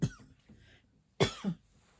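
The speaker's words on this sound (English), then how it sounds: "I'm going to cough" Two separate coughs from one person indoors, a short one at the start and a stronger double cough about a second later, close and fairly quiet.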